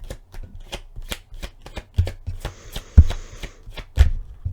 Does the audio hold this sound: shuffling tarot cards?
yes